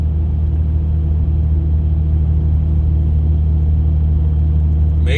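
Truck hauling equipment on a highway between Winnipeg and Steinbach, Manitoba, with a loud, steady engine rumble and road drone held evenly throughout, no voices.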